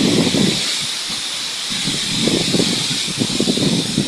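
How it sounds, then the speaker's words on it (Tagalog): Strong typhoon wind roars steadily with a broad hissing rush through coconut palms and trees, surging into louder gusts every few seconds; no voices. "Gigising ako sa hangin ng lakas."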